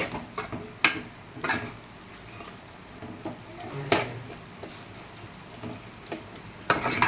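Prawns frying in a pan, a soft steady sizzle with intermittent scrapes and clinks of a spatula stirring against the metal, close and moderately loud, no voices.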